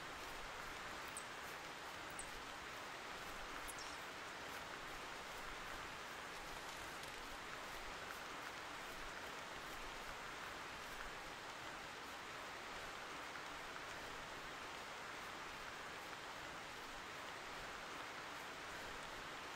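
Soft, constant rain hiss fills the outdoor scene in the hunting video game theHunter Classic, faint and even from start to end with no voices.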